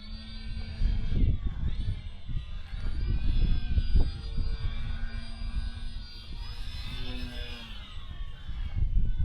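A Durafly Tundra V3 radio-controlled plane makes a low pass with landing flaps down, its engine whining steadily and loudly from close range, with a rising and shifting pitch through the pass and some wind buffeting underneath.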